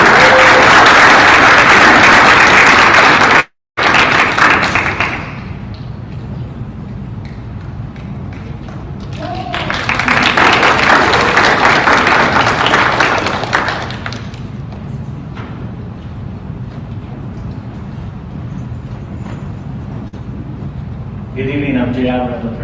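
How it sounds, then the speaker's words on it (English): Applause for student Mateo at a school district board meeting, a broad clapping burst near the start, another swell in the middle, and murmuring talk in the room between the bursts. "let's go ahead and give a round of applause to Mateo"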